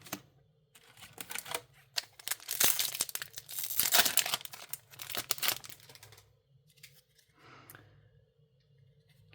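Foil wrapper of a Magic: The Gathering Edge of Eternities play booster pack being torn open and crinkled, a close, loud burst of crackling that runs for several seconds, then fades to a few softer rustles.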